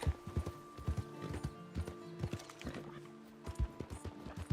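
A horse in the Red Dead Redemption 2 game gallops, with quick rhythmic clip-clop hoofbeats coming in irregular bursts and a faint whinny.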